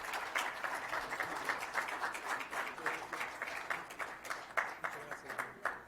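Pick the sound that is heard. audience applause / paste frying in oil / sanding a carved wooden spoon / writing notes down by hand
audience applause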